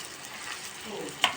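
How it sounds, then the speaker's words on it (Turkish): Onions sizzle steadily in a hot pan, a soft continuous crackle with one brief metallic clink near the end. "Soğanlarımızı kavuruyoruz."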